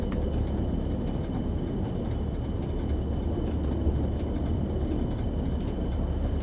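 A Northern Trans Pennine train in Train Sim World 2 coasts downhill, a steady low rumble of wheels on track with a faint high tone above it, continuous and close, with no voices.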